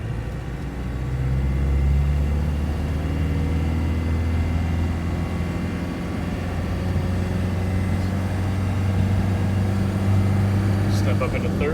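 A 1995 Land Rover Defender 130 driving along a repaved county road and shifting into third, with a steady, loud engine drone and a low rumble throughout, and a person talking over it.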